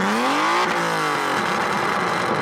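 A BMW E36 engine revs with no exhaust fitted, loud and raw, climbing in pitch then dropping and settling into a harsh, rumbling idle-to-midrange drone throughout.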